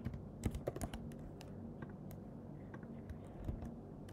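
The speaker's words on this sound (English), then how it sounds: "here I'm typing my domain" Typing on a computer keyboard while entering a domain name: a quiet, irregular run of close keystroke clicks with a few louder taps, no voices.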